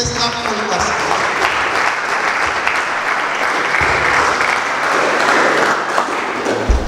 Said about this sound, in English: let us put our hands together as we listen to Mr. Emmanuel Bubango